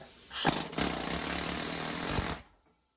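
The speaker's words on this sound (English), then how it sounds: "got an air hammer, air chisel, whatever you want to call it, and I'll just start" An air hammer chisels into a wheel hub during a Yugo/Fiat wheel bearing job, firing a loud, rapid metallic hammering burst of about two seconds that then cuts off abruptly.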